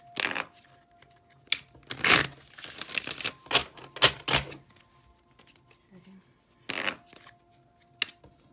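Tarot cards being shuffled and gathered in several quick riffling bursts and sharp flicks, close and crisp, separated by short quiet gaps.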